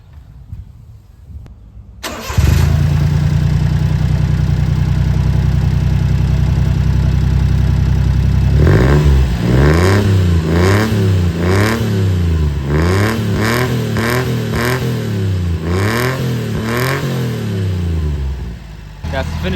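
A Honda Acty mini truck's small engine starts and idles with a raspy homemade exhaust, then revs repeatedly in rising and falling bursts, loud and close.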